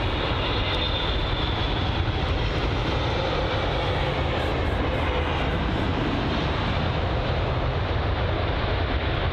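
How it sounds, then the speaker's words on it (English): An American Airlines Boeing 777 at London Heathrow makes a loud, sustained jet engine roar, dense and continuous from start to finish with no voices. "let's see the American Airlines Boeing 777"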